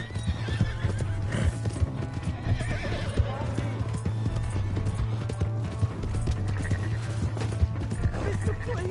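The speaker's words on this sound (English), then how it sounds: "Hey, that's my horse!" Galloping horse hooves in a Red Dead Redemption 2 chase, a steady rapid clip-clop with whinnies and neighs, heard over a low game score while voices shout and talk throughout.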